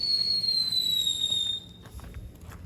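An artillery cannon firework that has just been lit lets out a loud, high whistling shriek that slides slowly downward for about a second and a half, then gives way to fainter crackling pops nearby, with no talking.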